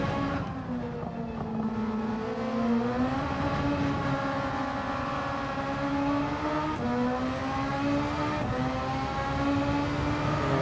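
A race car engine in a racing video game holds full throttle, a loud, close, continuous whine that climbs in pitch, dips briefly at gear changes and climbs again, with no voices.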